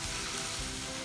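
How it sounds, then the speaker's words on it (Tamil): Cabbage frying in hot oil for a cabbage masala gives a loud, continuous sizzle with no break, close to the pan. "இதை நல்லா வதக்குங்க. எண்ணெயிலே நல்லா வதக்கிடுங்க."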